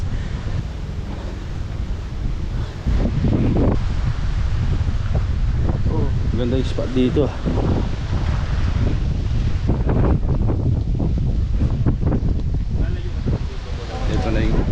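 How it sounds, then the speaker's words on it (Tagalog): Strong wind buffets the microphone in a constant loud roar, with a person talking briefly over it. "Lakas ng hangin."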